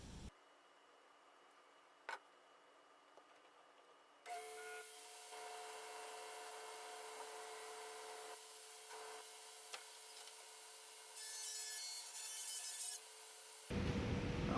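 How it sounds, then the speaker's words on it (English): After a few quiet seconds with a single click, a table saw spins up and rips a sheet of plywood lengthwise. A loud, steady whine with a humming motor tone holds, then rises near the end as the blade cuts through. "And we'll rip down this plywood."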